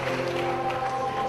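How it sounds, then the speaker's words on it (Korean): A congregation in Ghana bursts into applause and cheering after a hymn sung in their own language, a mix of clapping and raised voices blending into a continuous, moderately loud crowd roar. "환호성과 박수가 터져나옵니다"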